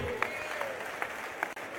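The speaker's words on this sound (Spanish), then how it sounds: "démosle un fuerte aplauso a nuestro secretario de Hacienda, Pepe Mid" Applause from an audience at a political event in Mexico, honoring a finance secretary, steady and sustained with a few sharper claps standing out, plus a faint whistle.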